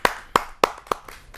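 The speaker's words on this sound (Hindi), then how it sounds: "उनका जोरदार तालियों से स्वागत करता हूं।" Hands clap four or five times in a slow, uneven rhythm at a Hindi poetry gathering, each clap sharp and close, with no talk.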